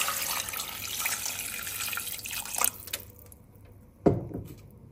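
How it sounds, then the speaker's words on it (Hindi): Water pours into a pressure cooker holding mutton for nihari, a loud splashing stream that cuts off, then a single sharp clunk and a brief splash in a quiet kitchen. "यहाँ पे क्योंकि मैं कुकर में बना रही हूँ तो पहले मैं 2 गिलास इसमें पानी ऐड करूँगी अभी"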